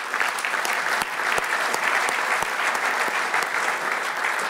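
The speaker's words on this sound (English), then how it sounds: "A big round of applause, please." A conference audience applauds warmly for Marco van Basten, a dense, even wash of clapping that holds steady throughout.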